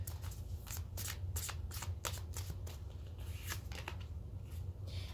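A small deck of cards is riffled and shuffled close by, quick bursts of crisp card flutter repeating in a fast, uneven rhythm over a low background hum.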